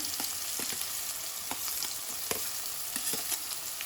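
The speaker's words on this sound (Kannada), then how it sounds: "ಈಗ ಇದನ್ನು ಚೆನ್ನಾಗಿ ಫ್ರೈ ಮಾಡ್ಕೊಳ್ಬೇಕು" Garlic and onion frying in oil in a pan for a brinjal (eggplant) dish, a steady close hiss of sizzling broken by scattered clicks and scrapes of a spoon stirring, with no voices.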